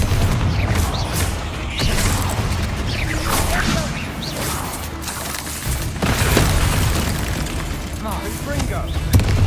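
Confringo fire spell blasts in Hogwarts Legacy go off as repeated booming explosions with whooshing bursts over a dense, loud game soundscape, with sharp hits around two and six seconds.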